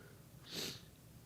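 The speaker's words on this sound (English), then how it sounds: "Excuse the sniffling, guys." A single short, soft sniff through the nose, close and faint against a quiet background.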